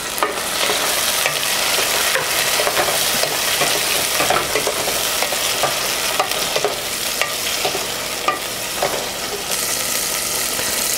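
Cut tomato frying with softened onions as the base for a fish gravy, producing a continuous loud sizzle broken by frequent scraping and clicking stirring strokes throughout.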